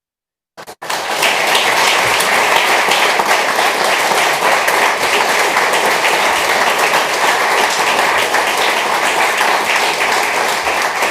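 Dense, steady applause fills a hall after a speech praising Congress delegate Stacey Plaskett, starting abruptly and holding at an even, loud level throughout without any voices.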